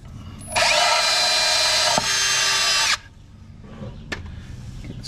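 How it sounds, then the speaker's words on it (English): A power drill bores a hole to fit a Garmin UHD 95 transducer, with one loud, steady high whine lasting about two and a half seconds and then cutting off sharply, followed by a faint click. "We'll go ahead and drill the second hole now."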